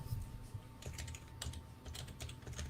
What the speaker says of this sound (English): And just type into Google.